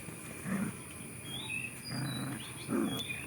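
Puppies yelp and growl in short playful bursts, three or so rough calls spaced across the moment over a quiet background with faint bird chirps.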